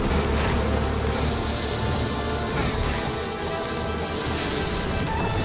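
A swarm of locusts descends in an animated plague scene, making a dense, loud buzzing hum that holds steady throughout and swells slightly near the end.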